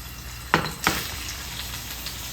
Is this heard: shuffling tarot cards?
no